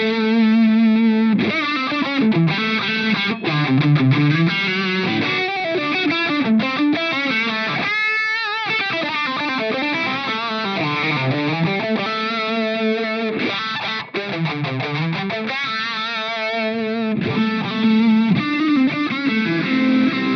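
An electric guitar runs through an Eventide H9 envelope filter ahead of distortion, loud and sustained, with sweeping wah-like vowel shifts on each picked phrase and chord across a long continuous passage.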